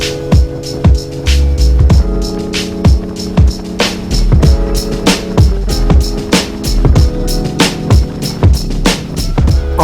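A Zero SR/S electric motorcycle being ridden, with a steady drone of motor and wind running throughout and a string of sharp, regularly spaced knocks and thumps, loud and close.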